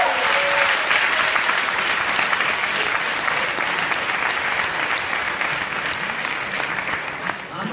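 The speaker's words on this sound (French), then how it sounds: "Je vous demande d'applaudir bien fort Mathieu Rochard" Sustained audience applause fills a hall at a Lausanne university event as a participant is welcomed, dense and steady throughout with a brief voice at the very start.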